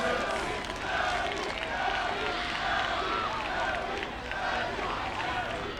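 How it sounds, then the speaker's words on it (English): Spectators at a women's semifinal match chant a player's name, a rhythmic, repeated crowd call carried over steady arena hubbub at moderate distance, with a commentator talking over it. "I hope you can hear the crowd chanting Abby's name here"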